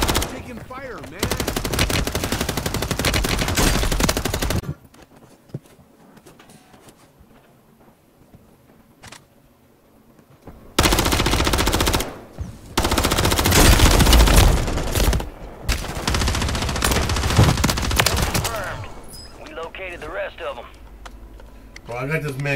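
Rapid automatic gunfire and bursts of shots in a shooter video game, loud and close, coming in heavy stretches separated by quieter gaps, with players talking over the action.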